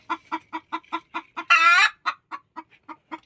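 A native heritage chicken clucks close by in a steady series of short, regular clucks, broken midway by one louder, drawn-out squawk before the clucking resumes.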